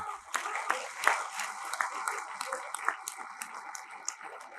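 An audience at a gathering claps their hands, a moderately distant, steady patter of many overlapping claps with sharper individual slaps standing out, sustained throughout with no talking.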